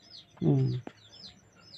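Desi chicken chicks on a poultry farm peep in short, high repeated chirps, with a brief voice heard in the middle.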